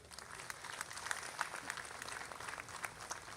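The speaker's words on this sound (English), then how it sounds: "A round of applause for them." Faint, distant applause at a county courthouse rededication ceremony: a crowd claps continuously in a quick, uneven patter.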